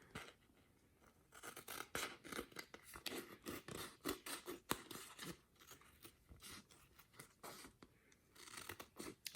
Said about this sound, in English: I'm going to cut the excess paper and contact paper off of the raindrop.